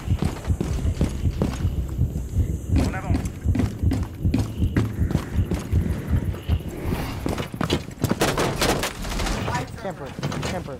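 Footsteps in the video game Rainbow Six Siege patter steadily beneath heavy gunfire bursts and overlapping voices of players talking.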